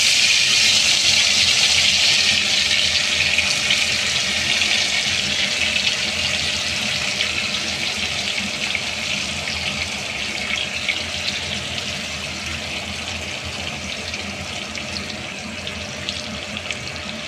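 Fish pieces sizzling one by one in hot mustard oil seasoned with black cumin, a steady close hiss and crackle that holds throughout and eases slightly toward the end.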